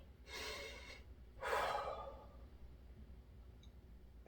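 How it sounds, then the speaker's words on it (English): Two deep, audible breaths during a golf core strength and flexibility workout, each a drawn-out, breathy inhale or exhale close to the microphone, separated by a short pause, with quiet room tone after. "Breathe deeply."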